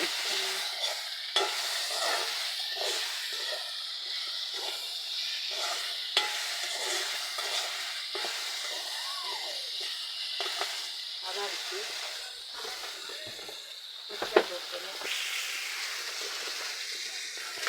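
Soya chunks frying and stirred in a pan, a continuous hissing sizzle with repeated spoon scrapes and clacks, plus a sharp knock near the end; no speech.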